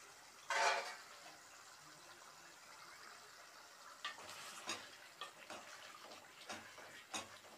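Aloo qeema curry of potato and minced meat being fried over raised heat, heard as a soft sizzle with intermittent scraping stirs. A brief louder splash of tap-like water comes early, and the pan sounds sit at a quiet, moderate distance.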